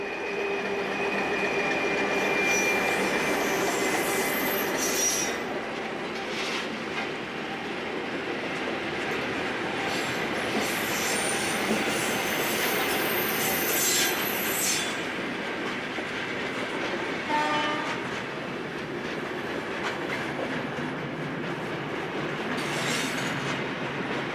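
A CP locomotive-hauled train running in Portugal, with steady rolling rumble and rhythmic clickety-clack of wheels over rail joints throughout, plus brief higher screeches, heard close and continuous.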